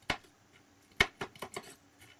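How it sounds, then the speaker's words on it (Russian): A knife chops nuts for gozinaki, a honey-and-nut sweet. It gives about five sharp, close, separate chopping knocks at uneven intervals in an otherwise quiet room. "Нарежу орехи."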